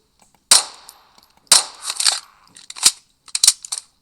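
Several sharp gunshots in Minecraft ring out, single cracks and short bursts separated by brief pauses, with clicking sounds between them.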